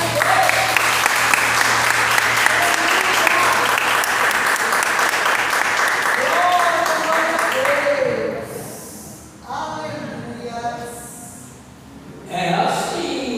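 A congregation at a church healing and deliverance service breaks into loud, sustained applause for the Lord, which fades after several seconds as a voice speaks over the room.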